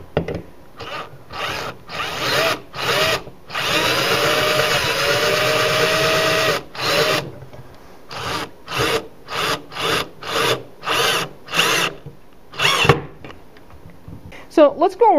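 A screw tightened into a hollow wall anchor, heard as a long grinding rub followed by a run of short, evenly spaced ratcheting bursts, close and fairly loud, with a voice briefly audible.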